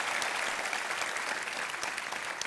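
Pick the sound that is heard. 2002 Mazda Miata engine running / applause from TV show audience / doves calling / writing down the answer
applause from TV show audience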